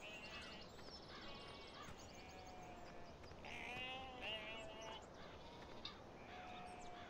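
Sheep bleating in a farming video game on a West Coast map, several drawn-out bleats at moderate distance over a steady ambient background, with no talk.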